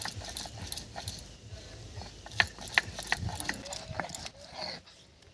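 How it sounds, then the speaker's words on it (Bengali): Onion being ground by hand on a stone sil-bata slab, a steady scraping and rasping with repeated sharp gritty clicks of stone on stone, moderately near, with no talk. "পেঁয়াজ বেটে নেব"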